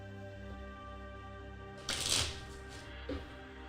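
A deck of cards gets a quick riffle shuffle, one loud papery burst followed a second later by a shorter, softer flutter, over a steady low background hum.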